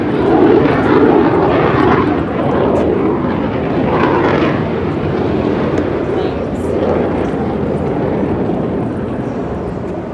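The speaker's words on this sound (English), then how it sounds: "those jets are flying like crazy" Military jets roar overhead near Virginia Beach in a loud, broad rumble that slowly fades, filling the air with continuous engine noise.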